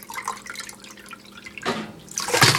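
Fresh filtered water is poured into a vessel for puer tea, a splashing, trickling stream that swells louder in two bursts toward the end, heard close up with no voices.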